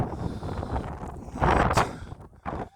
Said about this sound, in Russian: Здесь дикий ветер, метет снег.